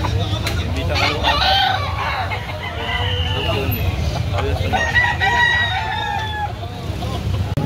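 Gamefowl roosters crow repeatedly at a farm in Cebu, drawn-out calls from several birds overlapping with clucking, while people talk in the background.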